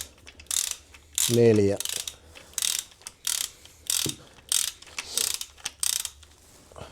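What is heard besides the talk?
ratchet turning bolts on a gearbox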